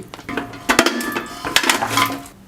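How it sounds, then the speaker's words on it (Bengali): Ten kilograms of beef for a wedding-style mezbani curry tipped into a large cooking pot, giving a string of loud, close metallic clanks and thuds with clinking, no talking. "আমি বড় একটা পাতিল নিয়ে নিয়েছি। এখন এখানে 10 কেজি মাংস দিয়ে দিচ্ছি।"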